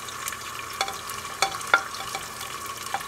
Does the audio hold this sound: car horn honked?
no